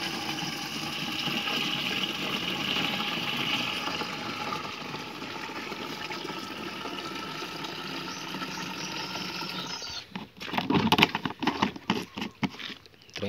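A 16-litre electric knapsack sprayer runs while spraying water in a test, giving a steady, close pump hum with a hissing spray that continues evenly before turning into rustling handling noise.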